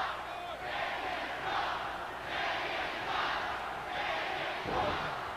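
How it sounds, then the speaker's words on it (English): A wrestling crowd at a WWE Velocity show chants in a rhythmic, repeated pattern, a broad roar rising and falling in steady waves across the arena. "You hear the crowd. Kanyon sucks."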